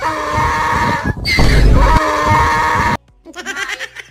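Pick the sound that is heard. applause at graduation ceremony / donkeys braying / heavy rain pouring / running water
donkeys braying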